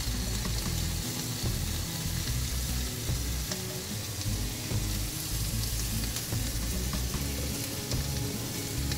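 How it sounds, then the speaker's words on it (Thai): Thai Muslim-style beef grills over high heat, giving off a dense, loud, continuous sizzle and crackle close by throughout, with no voices. "เดี๋ยวย่างให้เขาสุกทั่วกันนะคะทั้งสองด้าน"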